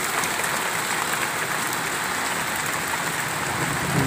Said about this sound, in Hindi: रमज़ान की पहली बारिश बड़ी ज़्यादा हो रही है।